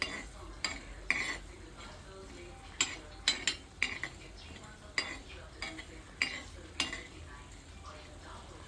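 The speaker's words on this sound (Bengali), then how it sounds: "এদিকে দারুচিনি, লবঙ্গ, এলাচ, ধনে এগুলো একটু প্যানে ভেজে নিচ্ছি।" Whole cinnamon, cloves, cardamom and coriander seeds dry-roasting in a pan, heard as repeated scraping and clinking strokes of a spoon against metal every half second or so over a faint steady sizzle.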